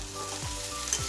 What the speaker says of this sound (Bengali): সরষের তেল দিয়ে করেছি তো, আর যত ভাজছি তত কালারটা খুলছে।